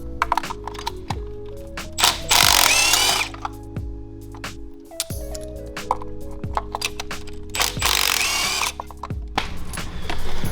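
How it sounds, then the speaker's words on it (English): A Milwaukee impact wrench removes spark plugs from a 2015-2023 Mustang EcoBoost engine, hammering in two loud, close bursts between clicks and tool handling. "In this instance, I am gonna use my Milwaukee Impact to remove them."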